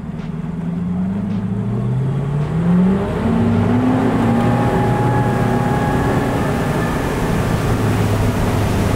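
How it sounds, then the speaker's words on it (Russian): A Northsilver 615 Fish Sport boat driven by a Mercury 200 V8 Pro XS outboard, the motor rising in pitch as it accelerates and then holding a loud, steady drone under way, heard close with no talking. "испытываем вторую лодку, 615 Fish Sport с мотором Mercury 200 V8 Pro XS"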